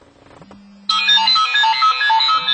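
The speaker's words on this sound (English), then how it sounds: "Here we have a phone call coming in." Incoming phone call ringtone played through a GMX550 vehicle's infotainment system with a lockpick interface, a loud steady electronic ring pattern that starts abruptly after a brief faint tone and continues without pause.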